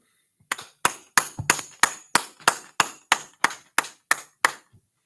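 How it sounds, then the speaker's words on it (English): About a dozen sharp, evenly spaced claps ring out in a steady rhythm at a gathering, each crisp and close with a short decay, alone without talk. "All right, clap it up."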